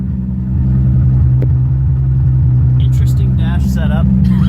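A Toyota Supra race car engine idles with a steady, loud, low rumble and a regular pulsing throb, and a person speaks briefly over it near the end.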